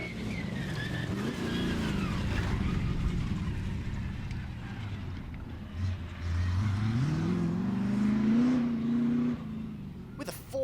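A Maserati rally car powered by a 4.8 litre Rover V8 roars past at a rally stage in Ebbw Vale, engine note rising and falling through gear changes with skidding gravel, loud and close.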